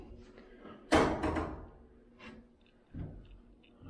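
Wardrobe drawers slide and thump shut nearby in an apartment, a sharp knock followed by rattling wooden scrapes, then a softer second bump.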